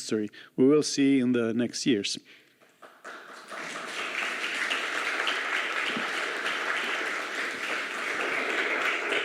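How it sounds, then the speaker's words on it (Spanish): Audience applause at a panel discussion and Q&A, rising after about three seconds of speech and continuing as steady, fairly loud clapping from a large crowd to the end. "Aplausos."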